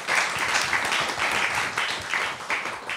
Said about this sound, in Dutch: Mag ik een heel hartelijk applaus voor Jeroen en Steven?